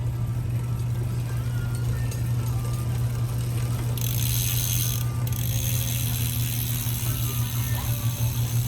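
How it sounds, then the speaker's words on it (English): Steady rapid ratchet clicking from the freehub of a rear Bontrager wheel on a 2021 Trek Checkpoint SL5, a continuous close buzz of pawls with a slight shift midway, no talking. "Here comes a free body sound test on this rear bond trigger wheel."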